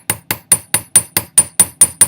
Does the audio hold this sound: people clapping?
no